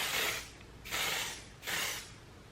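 Three quick hissing bursts of makeup setting spray mist, evenly spaced, close and soft, with no talking.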